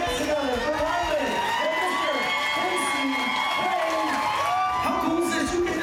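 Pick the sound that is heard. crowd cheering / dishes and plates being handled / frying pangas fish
crowd cheering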